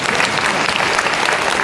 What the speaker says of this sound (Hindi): एक ताली बजाइए